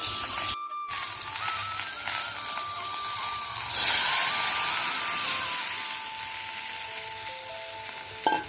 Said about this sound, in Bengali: তো 2 পিস মাছ ছিল, তো সেটা এখন ভাজা বসিয়েছে মা